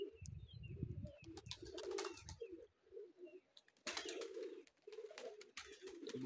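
Pigeons kept in a loft setup coo in low, repeated rolling calls, with scattered chirps and bursts of wing flapping heard close by.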